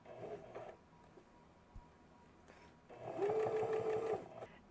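A sewing machine stitches a flap onto a messenger bag, running in short quiet bursts and then one steadier, louder whirring run near the end, with faint room noise between.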